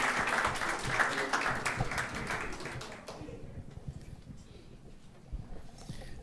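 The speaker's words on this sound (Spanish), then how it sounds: "Un fuerte bote de aplausos." An audience applauds a visiting architect before his lecture: about three seconds of dense, fairly close clapping that then tapers off into a quiet room with scattered faint claps.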